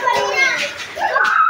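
Children play in a park in the Philippines, their voices and shouts close and lively across a short stretch, with a child's speech mixed in.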